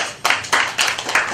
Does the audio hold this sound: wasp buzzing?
no